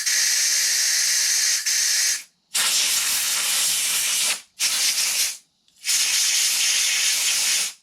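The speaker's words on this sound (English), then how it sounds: "if you used your trusty air compressor and blow the remnants out" Compressed air blasts through an AR-15 bolt carrier group, four loud, steady hissing bursts separated by brief silent gaps, close and alone.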